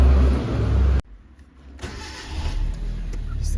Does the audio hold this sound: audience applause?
no